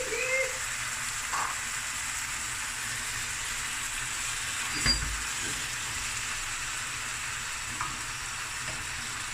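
Finely chopped tomatoes frying in a lamb curry pan, a steady close sizzle and hiss with occasional soft scrapes from stirring, no voices.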